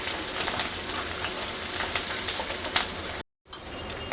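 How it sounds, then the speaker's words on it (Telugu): Onions and curry leaves fry in a pan with a steady, dense sizzle throughout, close and fairly loud, with a brief drop to silence near the end. "ఇంకా ఆనియన్స్ కొంచెం బాగా వేగాలి."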